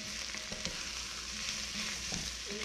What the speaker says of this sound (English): We'll now add the celery and the leeks to this concoction